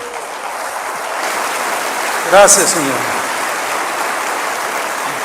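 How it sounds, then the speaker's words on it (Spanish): Church congregation applauding in a steady, loud wash of clapping, with a voice briefly speaking over it midway through. "Dale otro aplauso al Señor."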